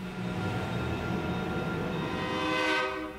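Heavy diesel freight locomotives climb a steep grade on a Vermont granite railroad, rumbling and droning with a strong engine hum, a horn-like tone rising near the end, loud and continuous.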